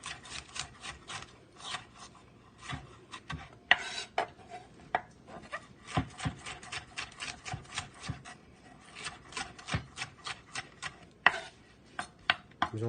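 A knife slices bell peppers on a cutting board in a home kitchen, giving a quick run of close, crisp chopping taps and rasping strokes at an uneven rhythm, with no talking.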